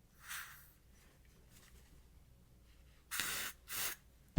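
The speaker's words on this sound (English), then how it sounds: "I would spray it on my hand" Short hissing bursts from a spray bottle of hair product, sprayed onto a hand: one soft spritz early, then two quick, louder sprays close to the mic in near silence.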